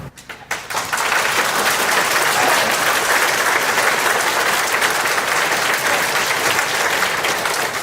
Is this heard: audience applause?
yes